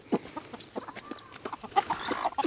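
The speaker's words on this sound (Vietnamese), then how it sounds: "Ồ, gà, chuồng gà của các bạn đây." Chickens, including a large rooster, cluck in a backyard coop, with rapid overlapping clucks and squawks heard close and fairly loud.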